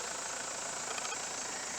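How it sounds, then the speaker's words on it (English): A 2001 Mitsubishi Fuso FE145 flatbed truck with a 4.9L turbo diesel idles in a steady, even hum with faint ticking, close and moderately quiet, with no voices. "Listening to the diesel engine run"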